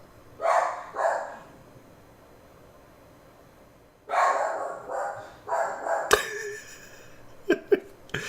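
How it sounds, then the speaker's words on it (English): A dog barks a few times in short bursts at moderate distance, with a pause between groups of barks, followed by some clattering handling noise. "my dog started barking, and we're going to hope that he stops"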